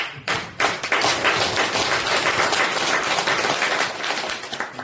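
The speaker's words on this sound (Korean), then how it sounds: "안 계시면 박수 한번 될까요" An audience at a worship service claps together for two visiting monks, a dense, lively round of applause that starts after a brief pause and carries on steadily with a few sharp taps and thumps.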